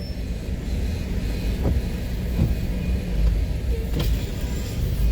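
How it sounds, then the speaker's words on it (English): Steady Chicago street traffic rumbles around a car stuck in a jam, a continuous low drone of engines and tires with a few faint passing swells, no one talking. "We're stuck in traffic"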